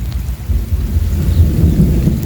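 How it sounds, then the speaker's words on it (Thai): Heavy rain and low rolling thunder arrive over rice fields, a loud, steady, close roar with deep rumbling throughout and no talk. "ฝนมาแล้ว"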